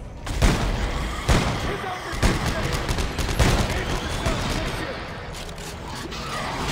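Gunfire crackles in Dead Space 3 co-op play, with several sharp blasts and bursts spread across the stretch amid game rumble, while players talk over it.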